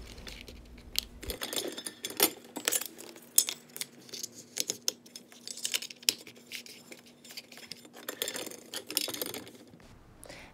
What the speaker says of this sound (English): Just try to find a correct angle to click them to the bottom.